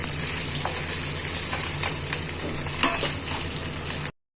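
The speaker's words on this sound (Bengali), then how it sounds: "মুচমুচে করে ভাজবো আগে" Small mourala fish fry crisp in oil, giving a dense, continuous sizzle close by, with occasional light scrapes and clinks of a utensil, before the sound cuts off abruptly.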